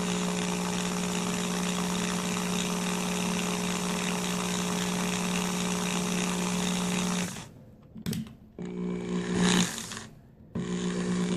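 A power drill spins steadily while winding wire for a stapled tiger coil, a loud continuous whine that runs unbroken for several seconds, then stops and restarts in short bursts.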